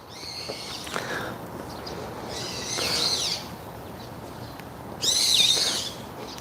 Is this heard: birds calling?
yes